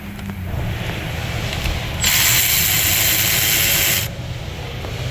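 On a 2021 Chevy Tahoe's rear brakes, a tool works the 18mm caliper bracket bolt, giving a loud, close, steady hiss-like mechanical whir for about two seconds over low workshop noise.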